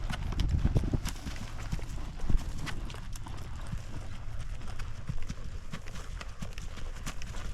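Horse hooves thud and clop steadily on soft ground as a horse works in a circle during training, a continuous rhythmic beat at moderate distance with faint ambient noise.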